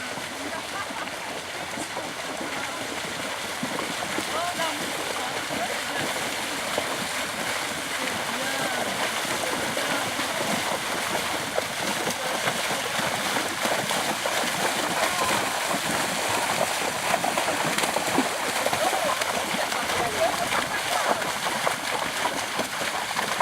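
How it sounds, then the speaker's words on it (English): A horse paddles in and out of shallow water during cross-country schooling, with steady splashing and sloshing that build over time, moderately close. "she was very happy to paddle in and out and play in the water"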